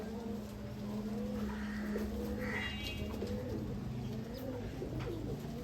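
Soft, low coos from a pair of Sakhi Teddy pigeons repeat steadily over a constant background hum, with a faint chirp now and then.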